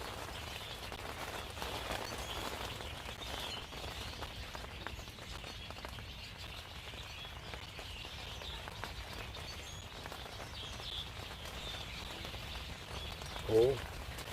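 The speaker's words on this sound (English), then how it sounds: "Can you hear the rain?" Rain patters steadily outdoors before a storm, a constant soft hiss of drops with faint birdsong, and a brief louder chirp near the end.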